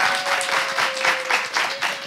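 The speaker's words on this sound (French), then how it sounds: "on va applaudir pour elle" An audience claps in steady, dense applause, a short close burst of many hands clapping together with a faint tone held underneath.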